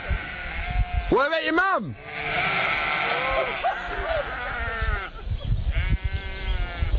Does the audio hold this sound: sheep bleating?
yes